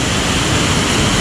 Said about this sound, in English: Another waterfall that I've shared now with my viewers.